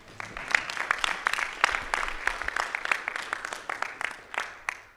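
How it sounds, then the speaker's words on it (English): Audience applause at a town council meeting in Miami Lakes, a steady patter of many hands clapping with a few sharper individual claps standing out, moderately loud and lasting throughout. "Let's clap it up for Morgan."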